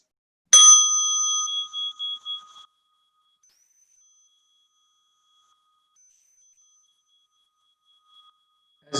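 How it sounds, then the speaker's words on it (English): A single struck mindfulness bell rings out clear and close, its bright tone ringing for about two seconds before fading into silence, with a faint second strike at the very end. "As you listen to the bell,"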